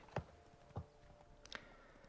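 Three spaced hoof clops from Geralt's horse in The Witcher 3: Wild Hunt, Blood and Wine, quiet and fairly close over a faint game background, with no talk.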